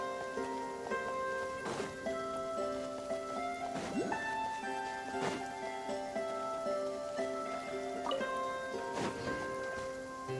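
Rain in Genshin Impact: a steady soft hiss of rainfall runs throughout beneath sustained tonal music with periodic chime-like accents, fairly quiet.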